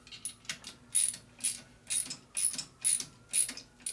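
A ratchet wrench tightens a motorcycle fork clamp on a Harley Shovelhead build, clicking in close, crisp bursts about twice a second, eight or so strokes in a row with no talking.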